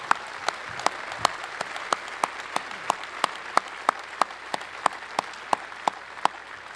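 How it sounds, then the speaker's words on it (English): At an awards banquet, an audience claps in a sustained round of applause, steady overlapping hand claps with a few sharper individual claps standing out nearby. "give Mr. Dave Gorin a round of applause"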